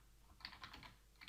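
Brief, soft typing on a computer keyboard, a quick run of light key taps heard alone at low level.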